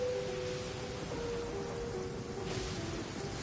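Rain falls in the desert in the video game Genshin Impact, a steady, moderately loud hiss of rainfall that goes on without a break. A low sustained tone hums beneath it and no one speaks.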